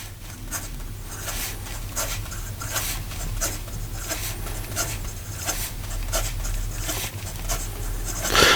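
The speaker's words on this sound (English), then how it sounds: "Then in regard to some fast writing," Fast writing with a Montegrappa Lord of the Rings fountain pen, a steady close scratching and rubbing of the nib on paper, with quick repeated strokes at an even level and no talk.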